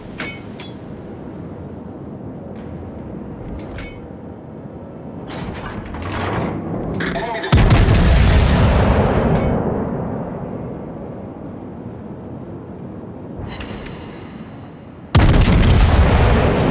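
Heavy naval gunfire from a World of Warships match, with the German Prinz Heinrich in play. Booming broadside blasts go off, one surge near 7.5 s and another near 15 s, and a long rumbling rolls between them. No one speaks.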